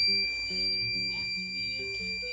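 A steady high electronic beep from a heat press holds continuously, with soft low tones and faint background hum beneath it.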